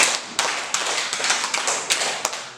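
A group of people claps in a counted exercise, about seven sharp, separate claps spread over a couple of seconds at an irregular pace, with moderate loudness and no talking.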